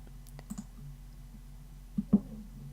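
A computer mouse clicking, a few sharp, faint clicks: one near the start and a closer double click near the end, over quiet background hum.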